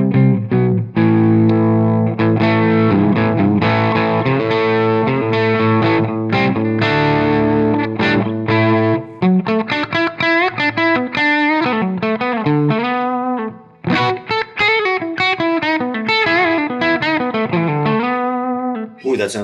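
Electric guitar with prototype pickups played through effects, a dry, distorted tone running through sustained chords and then quicker melodic lines, loud and close.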